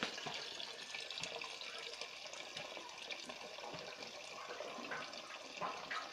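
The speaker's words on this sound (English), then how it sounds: "So now the water goes a little bit faster." Water rushes steadily out of the bottom of a tank with an air valve opened on top, a continuous gurgling wash of draining water at moderate level with no break.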